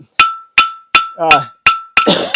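A blacksmith's hammer strikes hot steel on an anvil, giving six loud, bright, ringing blows at a steady pace, with a brief scraping clatter between strikes.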